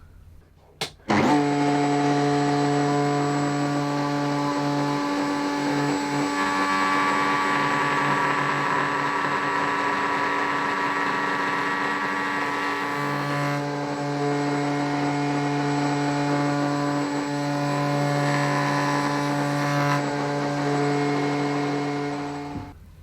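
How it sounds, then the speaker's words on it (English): A router table routing the corner of a wooden guitar workpiece, a loud steady high-pitched whine with a constant motor hum and small shifts in tone as the cut is made, running for about twenty seconds. "And you could see me pulling the workpiece against the router bit."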